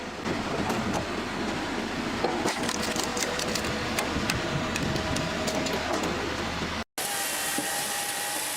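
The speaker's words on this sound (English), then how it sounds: "Pallex KS43S, a seamless symphony of cutting and splitting, facing off against a serious log." A Pallex KS43S firewood processor cuts and splits a massive, dense log, giving off a steady, loud mechanical roar with frequent sharp cracks and knocks and a brief dropout near the end.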